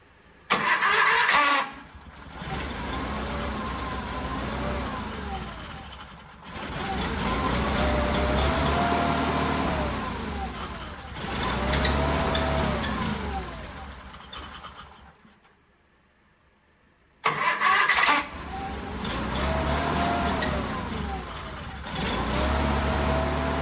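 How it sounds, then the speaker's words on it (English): A 1975 SS16 lawn tractor engine cranking repeatedly without catching, several long loud starter-driven attempts separated by short pauses, including one near-silent gap. "we'll see if we can get some pumping action out of that carburetor"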